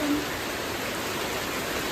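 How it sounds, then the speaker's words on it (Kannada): Heavy rain with big drops pours down at a village farmhouse, a steady, even hiss that fills the whole stretch without a break. "ಎಂತ ದೊಡ್ಡ ಹನಿ ಮಳೆ ಬರ್ತಿದೆ ನೋಡಿ"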